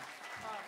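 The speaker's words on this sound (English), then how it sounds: "Round of applause" A live show audience applauds a performer, a brief steady wash of clapping with a voice speaking over it.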